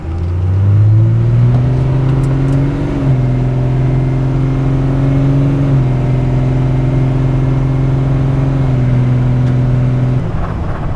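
A 12-valve Cummins diesel truck accelerates hard from 0 to 60 mph after loading to 1500 RPM, its steady engine drone rising in pitch through several gear shifts, loud and continuous.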